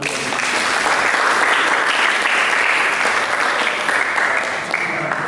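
A church congregation breaks into loud, sustained applause, a dense unbroken wash of many hands clapping close by throughout.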